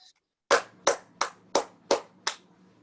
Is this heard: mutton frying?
no